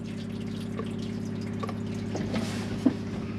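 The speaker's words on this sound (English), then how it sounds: "And that is your flush." A Chausson Titanium 768 motorhome toilet flushes with a steady pump hum and running water, a close continuous whir with small splashes and a brief clunk near the end.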